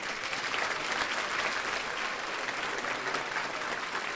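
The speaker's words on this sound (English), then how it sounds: "I'd like you all to give them a round of applause and say thank you." Steady audience applause fills a room at a multiple sclerosis patient event, many hands clapping together at an even, sustained level from start to finish with no voices breaking through.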